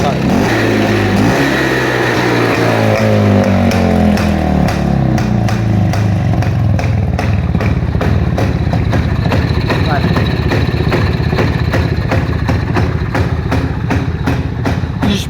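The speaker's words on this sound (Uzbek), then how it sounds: "Mana hozir gaz berib ko'raman, quloq solib ko'ring motorga aka." A Planeta 5 motorcycle engine revs up with rising pitch, then settles into a loud, steady running drone with rapid exhaust pulses.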